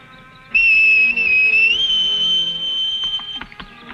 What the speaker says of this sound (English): You sure you can whistle like that, kid?